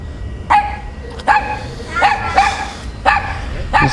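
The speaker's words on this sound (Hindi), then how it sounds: "बहुत भौंक रहा है तू।" A dog barks repeatedly in short, sharp yelps at a steady pace, close and loud, with a faint whimpering quality between barks.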